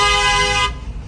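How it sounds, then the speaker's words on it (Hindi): A bus horn blares on a narrow mountain road, one long sustained honk that cuts off sharply near the end, leaving low engine rumble behind. "हॉर्न बजा रहा है"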